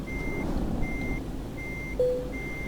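Truck reversing alarm in Euro Truck Simulator 2: a steady series of four evenly spaced high beeps over a low engine rumble, with a brief hiss near the end, no talk.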